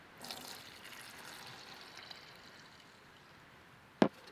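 Water from a resin mold holding Orbeez gel beads, a low steady trickle and splash running for a few seconds, ending in one short sharp splash or clatter near the end. No talking.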